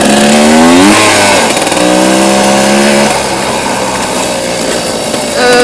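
A trial motorcycle engine revs hard and loud up close, pitch climbing and dropping as the gears are shifted, then settling into a steady rough drone.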